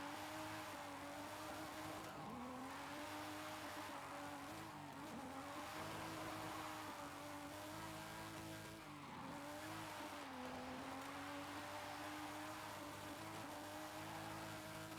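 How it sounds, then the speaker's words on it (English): Tires squeal through a long drift in Forza Horizon 5 as a race car's engine drones steadily, the screech rising and falling in loud sweeping waves over the whole stretch. "that was a good drift on your part"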